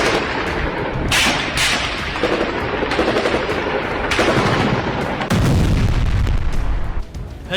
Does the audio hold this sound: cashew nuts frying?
no